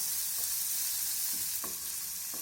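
A large chopped onion fries lightly in a pan, giving a continuous loud sizzle with occasional scraping or stirring knocks close by and no talk.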